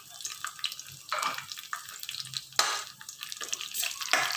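Cashews, raisins, pistachios, almonds and dry coconut frying together in a pan, a faint sizzle broken by several bursts of stirring and scraping, quiet and close.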